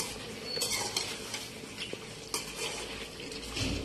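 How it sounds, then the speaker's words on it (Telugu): Rice dish being stirred in a covered pot during cooking: scraping and clinking of a spoon against the pot, with a soft sizzle underneath and a few sharper knocks, continuous and close, no voices. "దీన్ని మధ్యలో ఒకసారి కలుపుకోవాలి."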